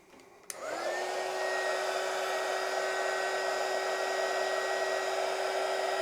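A heat gun starts with a click and settles into a steady, loud blowing whir with a constant tone, heating glue-lined heat shrink tubing while building a 3-element Moxon antenna for the 10 m band.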